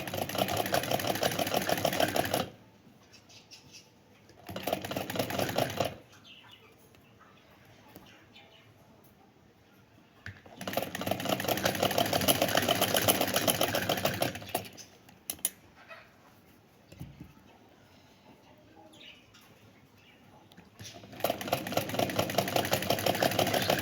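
A sewing machine runs a straight seam in several bursts of fast, even whirring stitching, close and loud, separated by quiet pauses with small handling noises.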